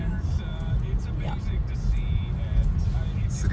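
Steady city traffic rumbles on Toronto streets in the early morning, with cars passing close by under a voice talking throughout.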